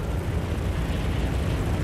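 Airplane engine in the video game Birds of Steel, a steady, loud, dense drone with no pauses that fills the whole stretch with no talking.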